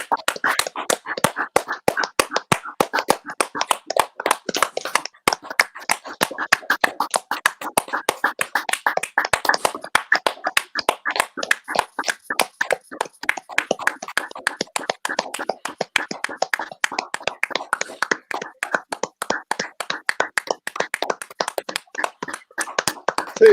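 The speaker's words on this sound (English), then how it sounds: "Let's have the minute of the clapping." Rhythmic, fast hand clapping for the NHS at 8 o'clock goes on continuously for over twenty seconds, close and crisp with no talk.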